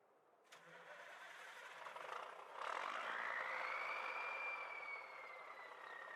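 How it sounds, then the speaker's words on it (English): A truck engine cranks and fires up in Farming Simulator 19, settling into a loud, steady idle with a rising whine and a sharp click at the start. "That sounds like a manly truck right there. Hope you guys can hear it."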